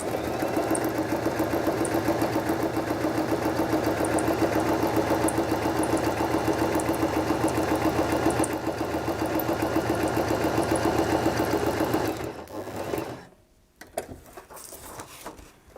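Sewing machine running steadily while stitching straight seams across a sheet of fabric, a close, even motorized patter for about twelve seconds before slowing and stopping, followed by faint handling noise.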